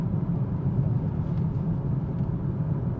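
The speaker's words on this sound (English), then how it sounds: "Now, concrete pavement, just cruising along." A 2026 BMW X5 cruising on concrete pavement, heard from inside the cabin as a steady, subdued low road and engine rumble with no talking.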